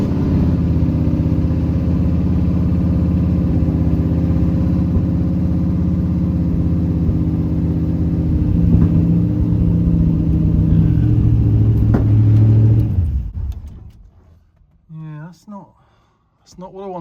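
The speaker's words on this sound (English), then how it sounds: "So let's start the car and see what happens." A second-generation Pontiac Firebird with an LS engine swap and carburetor cranks and runs with a loud, steady rumbling idle, then shuts off abruptly, leaving a few brief mechanical ticks in the quiet.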